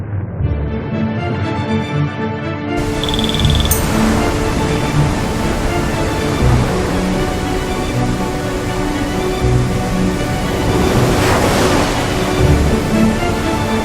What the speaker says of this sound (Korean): 천지에 갇혀있던 물이 터져나오면서 순식간에 함경도를 휩쓸어 버렸다.